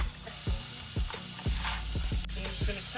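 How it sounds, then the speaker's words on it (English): Chopped garlic and onions sizzle steadily in a pan, a dense continuous frying hiss broken by repeated scrape-and-stir strokes every half second or so, close and fairly loud with no voices. "garlic. And you're just gonna toast it just a little bit."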